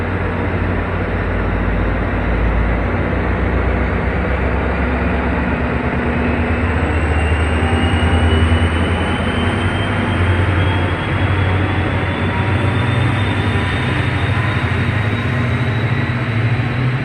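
An NJ Transit train rumbles steadily past at close range, a loud, continuous roar of wheels and engine with a faint rising whine, holding full strength throughout without any talk.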